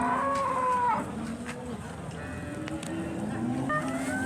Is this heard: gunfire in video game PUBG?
no